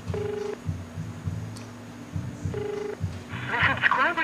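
A mobile phone sounds two short dual-tone keypad beeps as a number is dialed, one at the start and one a couple of seconds later, with a steady hum and a person talking underneath.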